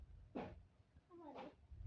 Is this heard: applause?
no